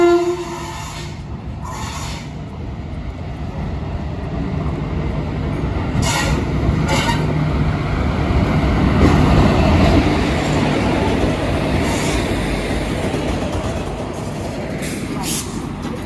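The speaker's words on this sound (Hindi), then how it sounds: "ट्रेन आती ट्रेन दिखाते हैं।" A train rolls into Jasidih Junction railway station, a loud rumbling rush of wheels and carriages that swells and holds, with a horn sounding near the start and station noise around it.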